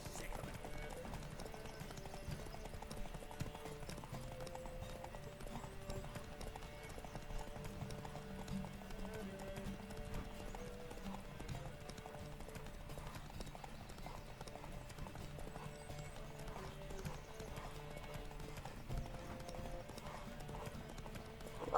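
Hooves pound in a fast, rhythmic clip-clop as a horse gallops through a race in the video game The Witcher 3: Wild Hunt, steady and quiet throughout with a faint whinny, game voices and music underneath.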